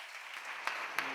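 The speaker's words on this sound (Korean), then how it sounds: "박수." Church congregation clapping together during a Korean sermon, a steady, fairly quiet wash of applause across the hall with two sharper claps standing out near the end.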